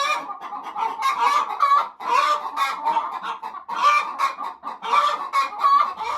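Chickens and turkeys in a poultry yard give loud, close, overlapping clucks and squawks in rhythmic bursts throughout.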